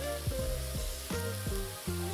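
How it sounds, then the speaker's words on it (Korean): Carrots cut into thick julienne strips stir-fry in oil in a pan, a steady close sizzle broken by a stir or toss about every half second. "팬에 기름을 두르고 당근을 볶다가"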